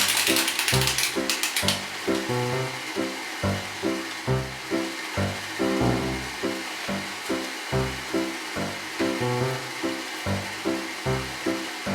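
A clamp being tightened on a glued wooden picture frame, rapid repeated ratcheting clicks in a steady rhythm, loud and close, with a brief rustle at the start.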